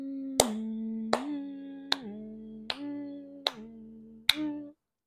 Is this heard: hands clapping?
yes